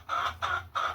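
Hens in a hen house cluck in three evenly spaced, drawn-out calls over about a second, close and clear with a low steady hum underneath.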